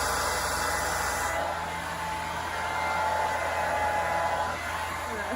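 A hair dryer fitted with a diffuser runs steadily on curly hair, a loud close whooshing roar that holds throughout with a slight change in tone partway, with no voices.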